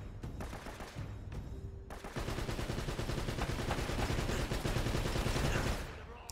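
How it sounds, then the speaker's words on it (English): Rapid turret gunfire in Uncharted: Drake's Fortune, a loud, dense burst of automatic shots that pauses briefly, then resumes as a long continuous stream before cutting off. "That's a turret. That's terrifying."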